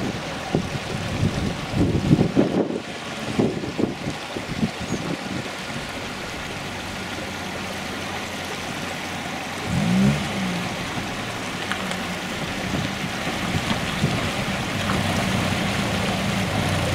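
A river runs close by on a mountain route over the Puerto de Cubilla pass into Asturias. It gives a steady, loud broadband rush with wind buffeting the microphone and a few knocks near the start. No voices are heard.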